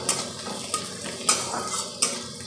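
Spices and onion frying for a dal tempering, a low background sizzle broken by several sharp metal spoon scrapes and taps against the pot, no speech.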